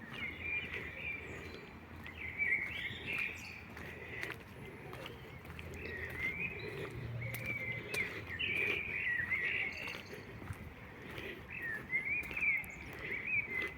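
Small birds chirp and twitter outdoors in Kraków beside landscaped flowerbeds, faint, scattered calls continuing over a low steady background murmur.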